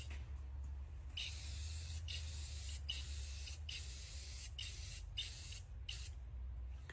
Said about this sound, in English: Spray painting the brick.